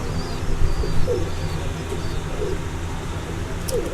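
Soft, low cooing from French pigeons at a breeder's loft, repeating in short murmurs at a moderate distance under a steady background hum, with a faint chirp or two.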